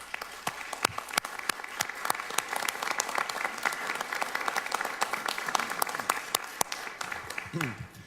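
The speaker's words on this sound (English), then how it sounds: "give a round of applause for everyone in the room right now" Applause from an audience in a room at a political event introducing a Social Security expansion, sustained clapping for about eight seconds with crowd noise underneath.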